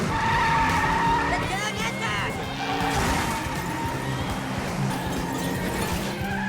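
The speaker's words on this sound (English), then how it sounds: "he does end up hijacking a race car and stupidly causing this catastrophic accident on the" A race car's tires screech in a long, loud skid during a catastrophic track crash in South Park. The squeal wavers and slides for several seconds, with voices mixed in.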